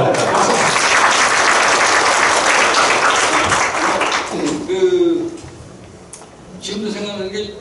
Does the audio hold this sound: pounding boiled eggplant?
no